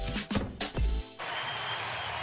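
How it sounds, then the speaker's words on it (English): Brief bursts of speech-like sound give way to a steady, broad wash of baseball crowd applause in a large stadium, continuing evenly to the end. "you hear the applause for Jose Altuve"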